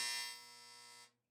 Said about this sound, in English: That's the dryer. It sounds like a 7th grade gymnasium buzzer.